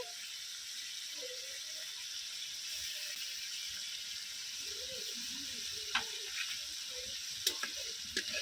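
Spices and tomato paste sizzling steadily in oil in a pan while cooking rui fish kalia, a constant close frying hiss with a few light clinks from stirring near the end.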